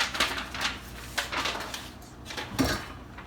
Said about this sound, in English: So you want to get those all mixed up with a spoon.